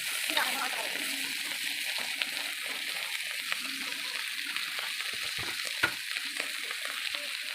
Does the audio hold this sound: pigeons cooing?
no